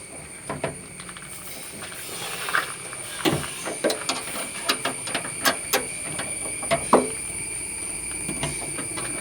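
A spanner works loose the boot latch on a new Maruti Swift LXI, a series of close metallic ratcheting clicks and clanks in an irregular rhythm over a steady background hum.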